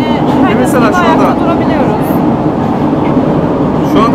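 Steady low rumble and rattle inside a moving metro train, loud and continuous throughout, with people talking over the rolling noise.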